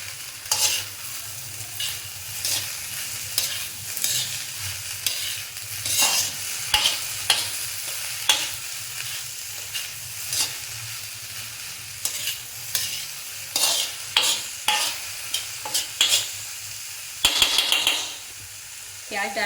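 Chopped onions fry on low heat in a pan, a continuous sizzle overlaid with many quick stirring scrapes and knocks that cluster toward the end, close and moderately loud, with no talking.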